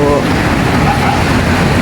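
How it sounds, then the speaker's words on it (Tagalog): Heavy rain pours down in the morning in Bukana, a loud, constant hiss and patter with gusty, rumbling noise close to the microphone. "Malakas pa rin ang ulan"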